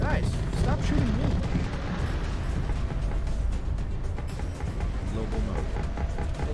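Gunfire and explosive booms in a video game, loud and dense, with overlapping bursts under a voice talking over the action.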